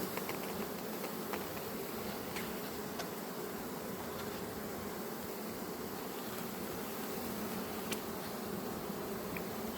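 Honeybees hum steadily at hives in an apiary during queen rearing, a dense, even buzz that continues without a break, with occasional closer individual bees passing and no speech.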